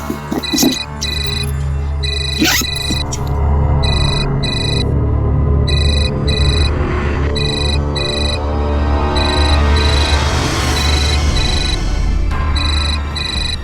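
A telephone rings with an incoming call, the repeated electronic ring tones pulsing in bursts over a steady low background, loud and close, with no talk over it.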